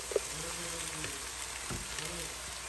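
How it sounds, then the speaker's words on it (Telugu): Potato pieces and green chilli pieces frying in oil for sabudana upma, a soft steady sizzle with small pops, heard close and fairly quiet. "బంగాళదుంప ముక్కలు, పచ్చిమిరపకాయ ముక్కలు ఇట్లా నూనెలో వేగాలి"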